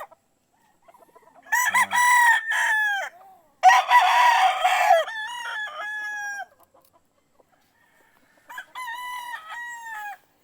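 A pure white Kelso gamefowl rooster crows three times close by, long rising calls separated by short pauses, with a brief cluck and no talk.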